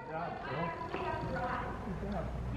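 A horse ridden during a jumping lesson clip-clops steadily underneath a person talking close by, with the hoofbeats partly masked by the voice.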